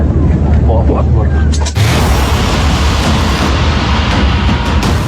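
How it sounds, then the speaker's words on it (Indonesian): A huge explosion in Beirut, Lebanon hits as a sudden deep boom that gives way to a sustained loud roar and rumble, with people's voices heard before and under the blast. "Ledakan dahsyat di Beirut, Lebanon Selasa petang waktu setempat menghentak publik dunia."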